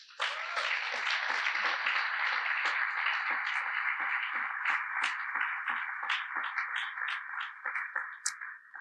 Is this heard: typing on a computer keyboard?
no